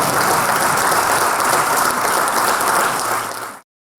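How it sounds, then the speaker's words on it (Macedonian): An audience applauds after a theatre play, a dense, loud wash of clapping that holds steady, then fades and cuts off near the end. "ајде уште еден аплауз па да се седнеме"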